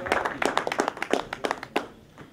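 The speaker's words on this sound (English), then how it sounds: "Please give them a round of applause because they deserve it" An audience claps for the contestants at a 2015 African Union Expo, a short burst of dense, lively applause that thins out and fades after about two seconds.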